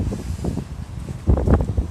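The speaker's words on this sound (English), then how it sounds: "you can probably hear it's fucking windy" Gusty wind buffets the microphone in low rumbling bursts, growing louder and rougher toward the end, with no voices.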